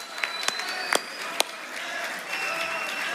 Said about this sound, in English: give a good hand of applause to my rabbi